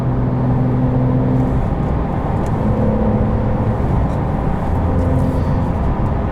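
A steady, loud engine drone from a 2022 Porsche 911 Carrera 4 GTS manual held near redline, with a whirring tone, continuous and close throughout.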